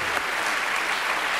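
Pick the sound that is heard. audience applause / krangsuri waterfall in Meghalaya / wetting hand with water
audience applause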